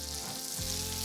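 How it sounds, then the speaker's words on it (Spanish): Mushrooms sautéing in a pan for a keto onion, mushroom and cheese omelette, giving a steady close sizzle with a low hum underneath and no voices. "we're gonna saute the mushroom"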